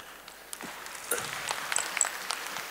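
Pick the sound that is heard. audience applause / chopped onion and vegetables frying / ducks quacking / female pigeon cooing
audience applause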